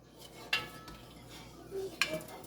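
A metal spoon stirring salt into rice pudding in a pot gives two sharp, faint clinks against the rim about a second and a half apart, over a quiet low background.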